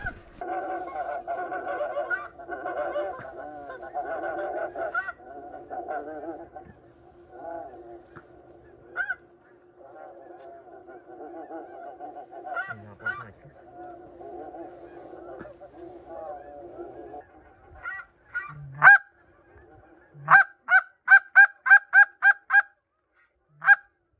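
A flock of snow geese honks repeatedly during a hunt, first as a steady distant chorus, then a burst of loud, closer rhythmic honks near the end, with faint voices.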